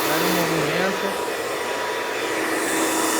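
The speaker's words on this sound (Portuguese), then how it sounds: "Bate a escova no cabelo, o secador no cabelo, jogando pra cima" A hair dryer blows steadily and loudly while hair is blow-dried with a brush, a continuous airy roar with no break throughout.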